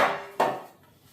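A metal bread pan is picked up and set down on a kitchen counter while bread is being made, giving a single sharp clunk midway that quickly fades into quiet room tone.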